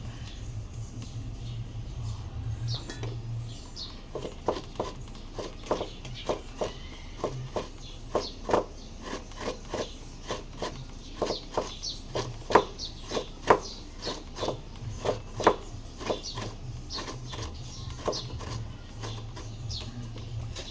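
Santol fruit being grated by hand, close up: a steady run of short, rhythmic scraping strokes, roughly one per second, fairly quiet, with a low hum in the background.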